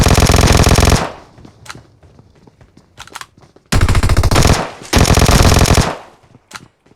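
Automatic M4 rifle fire in the mobile battle royale game PUBG Mobile: loud, close sustained bursts of rapid shots, a long burst at the start, then two more after a pause, with scattered single shots and clicks between.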